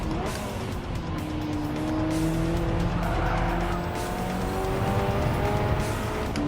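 Race cars in the Gran Turismo 7 video game roar at speed through corners, engines howling continuously with rising and falling pitch and brief tire squeal, under a faint voice.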